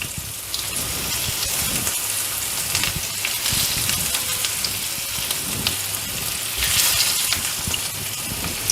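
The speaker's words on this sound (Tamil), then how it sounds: "நான்வெஜ் சாப்பிட்றவங்களுக்கு இது மீன் பொரிக்கிற ஞாபகம் வரலாம்" Stuffed bitter gourds crackle and sizzle in hot oil, a steady dense frying hiss that holds throughout with a slight swell near the end, no talking.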